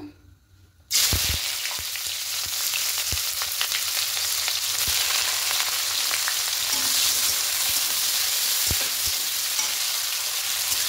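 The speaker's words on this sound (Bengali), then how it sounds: "একটু হালকা লাল করে ভেজে এটাকে বেরেস্তা করে নেব" Sliced onions hit hot white oil after a short quiet moment and fry for birista, making a loud, steady, close sizzle with a few stirring clicks and no talking.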